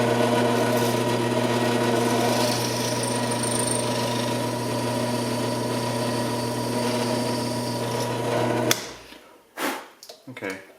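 A small drill bores out a rivet on a Matchbox die-cast car, a steady close whirring motor that runs for most of the stretch before cutting off, followed by a few light handling clicks.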